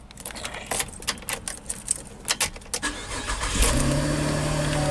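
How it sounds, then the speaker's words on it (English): A 2013 Chevy Camaro starting up: a run of clicks and brief bursts, then the engine catches and settles into a steady, moderate idle, close by with no talk. "so I'm gonna turn on the car."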